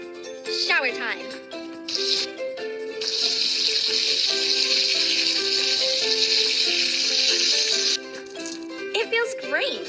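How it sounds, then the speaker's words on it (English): Cartoonish shower water runs in the Jungle Animal Hair Salon video game as a steady bright hiss, layered with game music and chimes, while character voices talk over it at the start and end. "Shower time."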